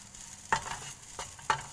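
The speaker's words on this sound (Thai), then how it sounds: "เอาน้ำพริกลงไปผัดเรียบร้อยแล้ว" Rice stir-fried with chili paste in a pan, two sharp spatula scrapes and clinks about a second apart over a faint steady sizzle, no talking.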